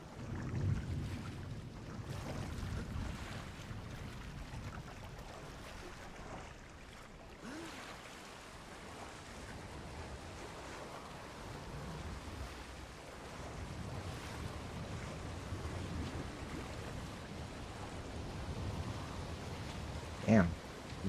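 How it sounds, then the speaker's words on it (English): Ocean waves striking boats in the video game Assassin's Creed Shadows, a continuous low rushing wash of surf and wind rolling in surges, with people talking over it. "Damn, these waves hit these boats hard."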